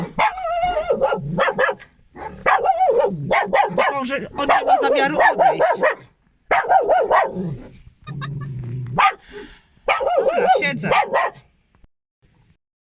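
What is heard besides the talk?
dog barking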